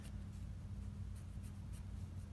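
A pencil scratches guidelines onto paper in soft, steady strokes, quiet and close over a low background hum.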